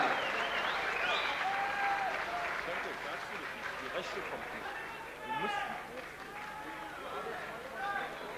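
Crowd at a boxing match between Daniel Londas and Senturk Ozdemir applauding a fighter, steady clapping spread across a large hall with whistles and a commentator's voice over it.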